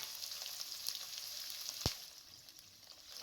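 Onions and whole garam masala spices fry in hot oil, a steady hiss of crackling with a few sharp pops and one louder spatter midway, close and alone.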